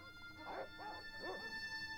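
Dogs bark in the adventure game Broken Sword Reforged, three quiet, close-spaced woofs over a low background hum.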